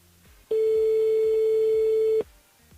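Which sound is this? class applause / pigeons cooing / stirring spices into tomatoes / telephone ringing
telephone ringing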